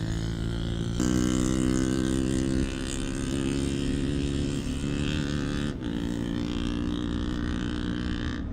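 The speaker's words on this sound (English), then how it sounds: "The distinct hum of a motorbike approaching, its engine revving as it neared his tent." A motorbike engine near a tent in an open field at a campsite, running loud and steady with a low rumbling drone that swells briefly, then settles back toward idle.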